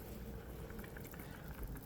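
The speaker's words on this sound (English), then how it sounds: "boil them in a little bit of water" Frozen breakfast sausage links simmer in a small amount of water in a pan, giving a faint, steady bubbling and boiling hiss throughout.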